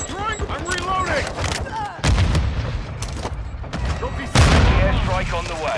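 Heavy gunfire and booming artillery blasts in the video game Call of Duty: Modern Warfare II, loud bursts hitting around two and four seconds over continuous battle noise, with radio-style voices talking throughout.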